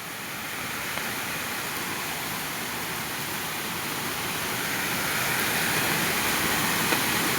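Kadam waterfall, a hidden cascade in a forest, gives a steady, unbroken broadband roar that swells slightly toward the end, heard from a short distance with no voices.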